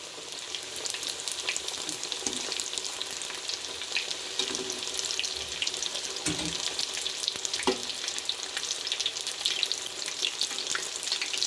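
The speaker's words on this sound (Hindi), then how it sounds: "नीचे वाली साइड को हम 3 मिनट तक फ्राई करेंगे।" Vegetable cheese samosas frying in hot oil give a steady, dense sizzle that stays even throughout, with a few soft clicks from the pan and no voices.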